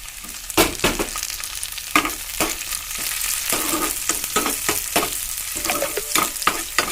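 Fiddlehead fern fries with green chillies in a pan, giving a loud, steady sizzle broken by repeated scraping strokes of a spatula stirring at an uneven rhythm, close up with no voices.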